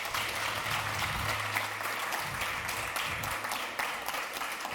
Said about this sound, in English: let's give her a huge hand of applause